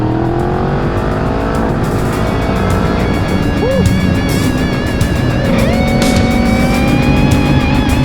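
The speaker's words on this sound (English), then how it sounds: "we are out on a Kawasaki Z900RS here" 2023 Kawasaki Z900RS motorcycle ridden on a demo day: steady loud engine drone with shifting whining tones as revs change, wind roar throughout, and a voice talking underneath.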